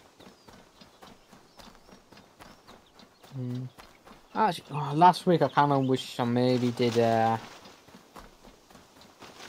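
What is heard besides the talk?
summoned horse hooves in video game Assassin's Creed Valhalla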